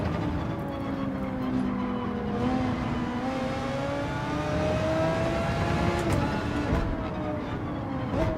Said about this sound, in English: Oh, I downshifted by mistake.